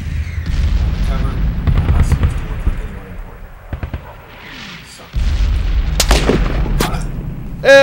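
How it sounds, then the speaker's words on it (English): Loud explosive booms and bursts of gunfire ring out in an ambush with an RPG rocket blast, several sharp close impacts and rumbling between them, with voices shouting in between. "Ambush! RPG!"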